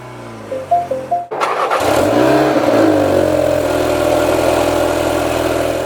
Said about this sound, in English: I'll go ahead and put my foot on the brake and start it up.